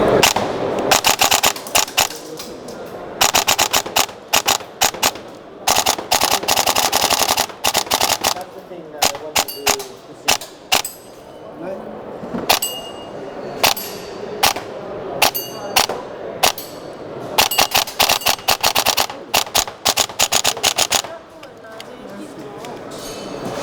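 A Rossi airsoft gun, with a CNC aluminium hop-up chamber and a steel build, fires repeated semi-automatic shots in quick bursts, sharp cracks and mechanical clacks close by, with a crowded trade show hall murmuring behind.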